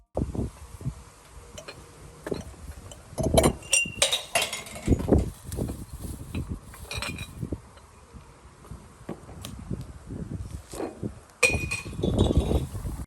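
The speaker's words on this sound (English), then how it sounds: "heaven forbid you even think about tossing glass into the recycling bin during the weekend" Glass tossed into a recycling bin makes repeated sharp clinks and clatters of metal against glass, bursts of loud jangling scattered among quieter rustling handling noises.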